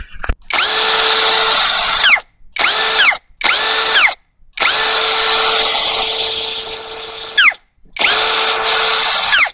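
A Tanzu 10mm metal-chuck cordless drill runs in several loud, steady high-pitched whirring bursts, stopping briefly between each run, with no one talking.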